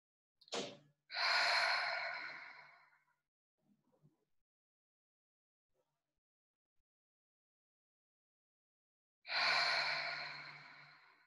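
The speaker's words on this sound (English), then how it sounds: "Continuing to take big deep breaths." Deep breathing during a guided breathing exercise: a sharp inhale followed by a long, heavy exhale, then quiet before another long breath out, close and clear.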